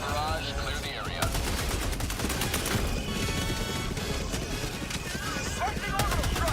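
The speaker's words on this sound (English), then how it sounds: "Firing orbital barrage." Orbital barrage strike in a video game, a dense fusillade of rapid explosive impacts pounding continuously and loudly, with voices and radio-style chatter mixed over it.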